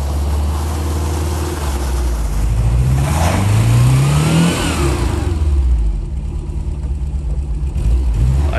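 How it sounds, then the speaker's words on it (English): Engine of a Volkswagen Vanagon Tristar Syncro Doka running while driving, a loud steady drone with a rising rev partway through before settling back, close and continuous, with no talking. "now the engine runs on all of the cylinders smooth as can be"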